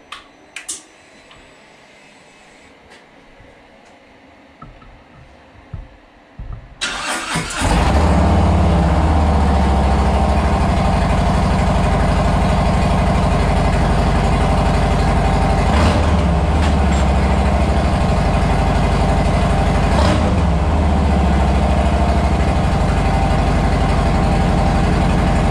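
Harley-Davidson Street Glide with TAB Performance exhaust and baffles fired up after a quiet start, then a loud, raspy, close idle rumbling steadily with a throbbing lope, alone without talk.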